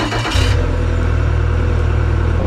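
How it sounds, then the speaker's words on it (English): A Mercury/Yamaha 115hp EFI outboard boat engine cranks briefly and catches, settling into a loud, steady low-pitched running drone close by. "let's go turn on the engine."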